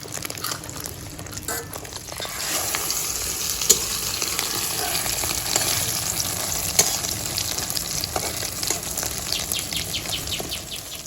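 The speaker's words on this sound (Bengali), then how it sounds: "সেই ডিমটা পেঁয়াজ, কাঁচা ঝাল, লবণ হলুদ দিয়ে ভাজি হচ্ছে এটা" Egg omelette with onion, green chilli, salt and turmeric frying in a pan, village style: a steady, loud sizzle runs throughout, with scattered crackles and pops and occasional utensil scrapes, no voices.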